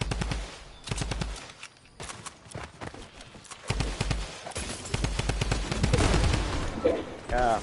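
Sniper and automatic gunfire from a Fortnite match, sharp repeated shots in bursts with heavy rapid volleys throughout, loud and close, with someone talking excitedly over the fighting.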